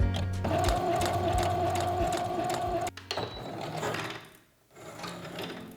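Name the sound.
sewing machine stretch-stitching a baby outfit collar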